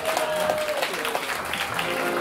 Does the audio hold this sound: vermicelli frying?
no